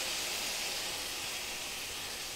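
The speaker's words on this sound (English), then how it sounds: "oh, listen to that sizzle." Gravy made with bouillon and Worcestershire sauce sizzles steadily in a hot pan for bangers and onion gravy, a continuous bright hiss close by with no breaks and no voices.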